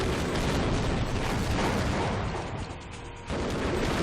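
A tank firing in Half-Life on PlayStation 2: dense, loud blasting and rumbling noise filling the clip, briefly easing before another burst near the end.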